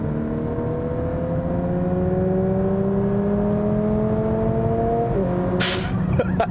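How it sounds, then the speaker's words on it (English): A 2019 Lexus UX 250h F-Sport hybrid's synthesized fake engine sound hums with steady tonal layers that slowly rise in pitch, then drop, ending with a brief burst of noise. "It is hilarious with that fake engine noise."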